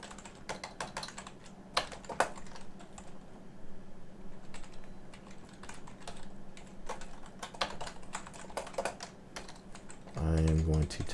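Computer keyboard typing while writing code, irregular bursts of close key clicks with short pauses, and a voice briefly speaking near the end.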